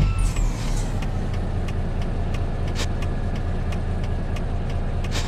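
A heavy truck in Euro Truck Simulator 2 rumbles steadily while sharp air-brake hisses and clicks repeat at regular intervals throughout.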